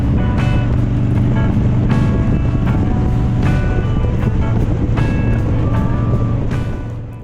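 Harley-Davidson motorcycles from HOG chapters ride out along a road near Te Aroha, a loud, continuous engine rumble under heavy wind roar, with humming engine tones swelling and fading repeatedly as bikes pass.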